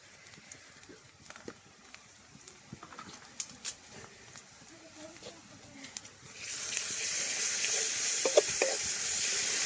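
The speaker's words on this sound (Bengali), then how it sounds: "এখন হচ্ছে এখানে দিয়ে দিব রসুন বাটা" Onion and garlic paste goes into a hot pan with cooking oil. After a few faint taps and clinks, a loud, steady sizzle bursts in partway through and hisses on to the end.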